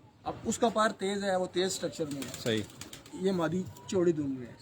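Pigeons coo softly in repeated throaty bursts on a rooftop loft, heard beneath steady conversation between men.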